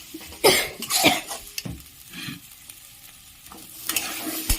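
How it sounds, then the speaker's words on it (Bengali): Egg cutlet mixture being sautéed with spices in a pan on a gas stove: a few scraping stirs over a soft sizzle, with louder strokes near the start and again at the end. "আমি কিছুক্ষণ গ্যাসে ভালো করে মশলার সাথে কষিয়ে নেব"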